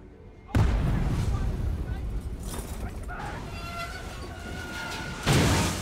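Explosions and gunfire from the video game Call of Duty Black Ops 3, loud and dense throughout with a fresh blast near the end, under background game noise and some voice.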